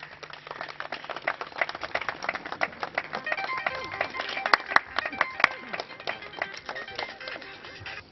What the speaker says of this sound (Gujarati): આપણે સૌ એમને તાળીઓથી વધાવીએ।